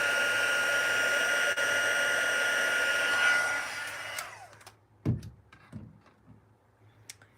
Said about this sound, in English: So I just need to run the heat tool over it one more time.